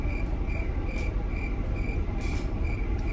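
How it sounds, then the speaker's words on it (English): Steady crickets chirp in a regular pulsing rhythm over a constant low rumble, filling the background without any talk. "Those are the crickets, right?"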